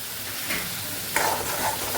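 Soaked cashews sauté with spices in hot oil, giving a steady close sizzle with a soft stirring scrape partway through.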